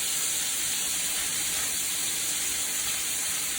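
Shrimp cooking in a hot pan, with a steady, even hiss of sizzling that holds constant throughout without pauses.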